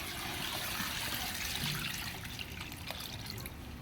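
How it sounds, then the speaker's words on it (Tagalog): Water pours steadily into a pot of beef innards being boiled to remove odor, a continuous close splashing trickle with no talk. "Lagyan natin ng tubig mga tropapi."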